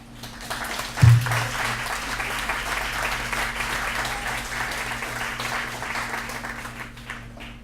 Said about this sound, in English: Let's have another round of applause for the Meter Maids.